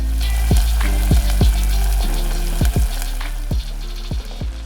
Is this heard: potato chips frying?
yes